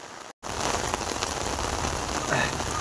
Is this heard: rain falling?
yes